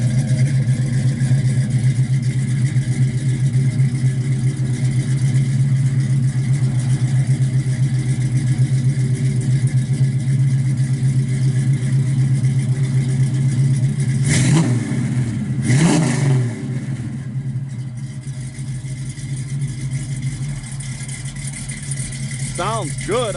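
A 1969 Chevrolet Camaro Z28 with a 454 engine, a cam and Flowmaster exhaust, idling with a deep steady rumble, then two sharp throttle blips before settling back to a lower idle.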